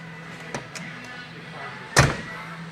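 A car door on a low-mileage car shuts with a single solid thud and click at close range, after a few small taps and faint handling sounds.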